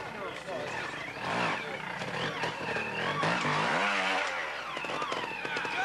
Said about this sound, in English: And the last rider we'll catch through here, Diego Bozes.